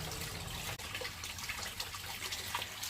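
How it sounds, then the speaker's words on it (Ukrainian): Water is poured out steadily outdoors to water plants, a continuous close splashing gush that holds at an even level, with no talk. "Хочу піти позливати воду в деяких дендрів."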